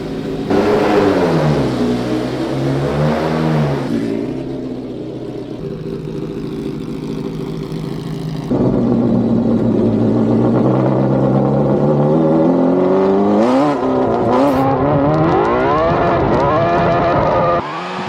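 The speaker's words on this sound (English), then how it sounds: "So I'm going to jump in the car and go for our very, very first test drive. Let's see how it sounds." A V8-powered mini truck with an F1-style exhaust revs and accelerates on its first test drive, a loud high-pitched wailing engine note that climbs and falls repeatedly, easing off midway before surging again.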